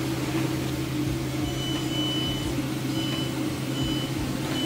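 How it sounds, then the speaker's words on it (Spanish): A 10W laser engraving machine's fire alarm sounds high, repeated beeps, several short tones and a longer one, over a loud, steady mechanical hum and fan noise while wood burns during cutting. "el material empezó a quemarse mucho y pues saltó la alarma de fuego de la máquina"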